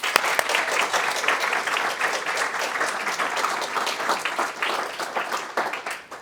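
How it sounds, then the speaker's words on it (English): Sustained applause from an evening audience thanking speakers at a service design event, dense steady clapping filling the room for about six seconds before tapering slightly. "Another really big round of applause"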